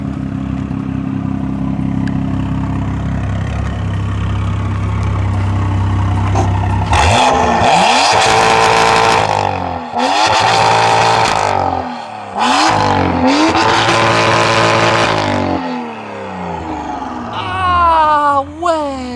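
BMW with a modified Miltech exhaust line idles, then revs hard several times in loud, raspy bursts with brief crackles between, heard up close, with people talking in the background.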